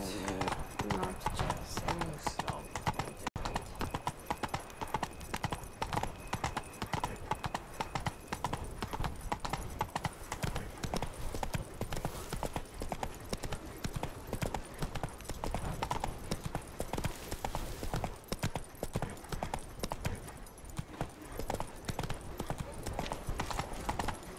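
Roach the horse's hooves clip-clop in a quick, steady rhythm throughout a ride in The Witcher 3: Wild Hunt, set in Toussaint, with voices talking over the hoofbeats.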